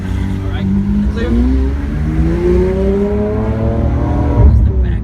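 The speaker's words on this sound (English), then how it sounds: "There's the back engine right there, that V12 engine." Rear-mounted V12 engine of a 2016 Lamborghini Aventador SV revving and pulling hard, heard on board as a loud, continuous rising and falling engine roar throughout.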